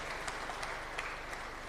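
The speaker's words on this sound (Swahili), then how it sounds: "Tuwapigie tena makofi ya mwisho kabisa." Closing applause at the TAIC 2023 event, a faint, steady patter of clapping from a crowd, with scattered louder claps throughout.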